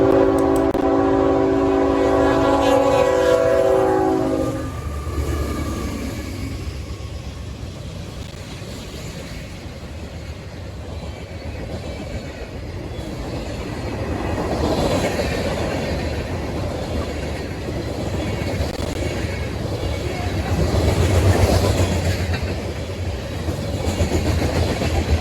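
A freight train, M560, with four GE C40-8 locomotives, two of them ex-Conrail, sounds its horn loudly at the start, then rumbles past with a long, steady roar of wagons and rail clatter.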